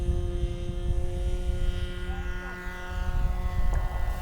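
A model airplane with a glow engine and a 10.5 propeller takes off. Its engine holds a loud, steady buzzing whine with a strong tonal hum, close at first and shifting slightly in pitch as it climbs away.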